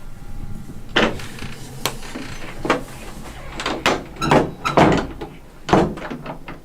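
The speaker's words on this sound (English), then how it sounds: "I'm closing the door now." An interior door in an old house is pushed shut, giving a series of close wooden thumps, knocks and creaks scattered over several seconds, with no voices.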